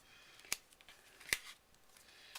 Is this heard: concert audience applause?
no